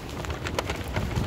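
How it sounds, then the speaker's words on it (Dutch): Heavy rain pours down outdoors in Rotterdam, a dense and steady hiss of drops hitting the street and surfaces, loud and continuous for the whole moment. "het regent hier echt keihard"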